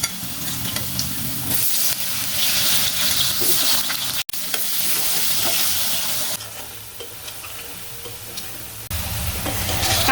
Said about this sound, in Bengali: এবার আমি কেটে রাখা আলুগুলো ভেজে নেব।